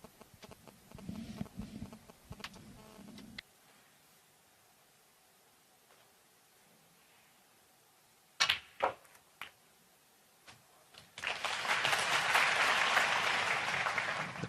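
At a China Open snooker match, the crowd breaks into loud, sustained applause near the end, preceded by quiet arena ambience, a few sharp ball clicks and a brief scattered clap.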